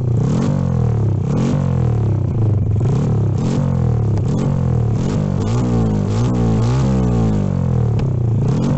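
A motorcycle engine with an aftermarket exhaust revs up and down repeatedly, loud and close, each rise and fall of pitch following the last in a steady rhythm with a raspy, clattering edge.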